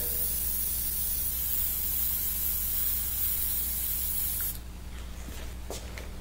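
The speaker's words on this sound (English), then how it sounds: "And dry it with the airbrush air." An airbrush blows a steady, close hiss of air to dry paint on a mural, stopping abruptly near the end and leaving faint room noise.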